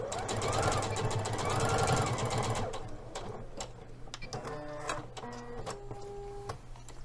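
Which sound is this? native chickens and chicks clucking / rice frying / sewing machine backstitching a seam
sewing machine backstitching a seam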